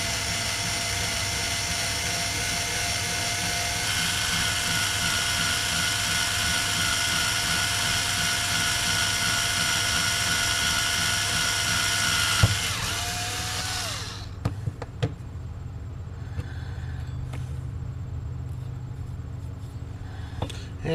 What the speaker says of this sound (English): basically just a cordless screwdriver with a drill bit